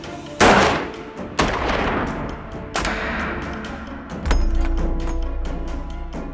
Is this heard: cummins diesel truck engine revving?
no